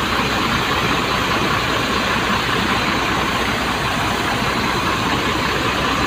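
A Mercedes-Benz bus with Adi Putro bodywork idles nearby, giving a loud, steady, rumbling engine drone with a broad hiss and no pauses throughout.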